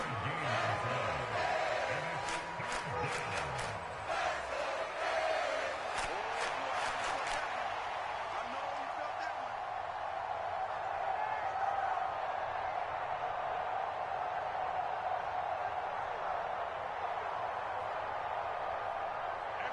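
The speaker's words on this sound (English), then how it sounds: "The crowd getting into it as we come up on a big third down." A stadium crowd in an American football video game roars as a steady, dense wash of cheering before a big third down, with a burst of sharp clapping and whistles early on and a broadcast announcer talking over it.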